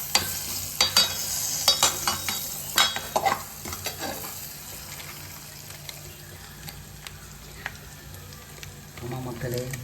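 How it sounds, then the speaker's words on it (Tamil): Tempering for a Chettinad chicken gravy sizzles and fries in a pan, with sharp spatula scrapes and clinks against the pan early on, then a quieter steady sizzle with a few more stirring strokes. "இப்போ பார்த்தீங்கன்னா நல்லா வதக்கிக்கலாம். வதக்கினா தான் கரெக்டாக இருக்கும்."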